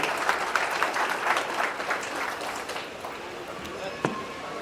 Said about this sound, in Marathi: होऊ शकता जोरदार टाळ्या